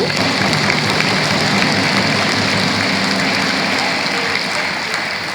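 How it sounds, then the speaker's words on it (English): Loud, sustained applause from a large crowd at a book launch in Abuja, a dense wash of clapping that holds steady and eases slightly toward the end. "let's hear that resounding Abuja round of applause for him"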